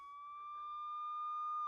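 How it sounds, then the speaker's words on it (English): A police car siren holds a steady, piercing tone that swells louder over under two seconds, with nothing else heard. "outside, they hear the sound of a siren. It is a police car."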